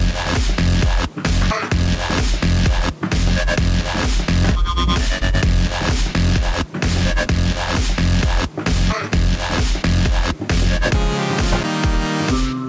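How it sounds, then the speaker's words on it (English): Electronic kick and snare drum pattern for the opening of a dubstep-style drop, loud and dense, with punchy thumps and sharp hits in a steady driving rhythm under a full synth backdrop. "You'll be starting off just with a kick and the snare for the first part of the drop."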